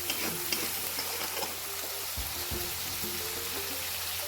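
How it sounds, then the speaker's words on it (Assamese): Fish curry spices with salt, turmeric and chilli powder fry in a pan, a steady low sizzle with a few stirring scrapes and clatters near the middle. "অলপ ভাজি থাকিম"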